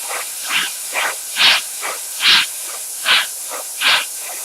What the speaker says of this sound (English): I'm just going to spray behind this red again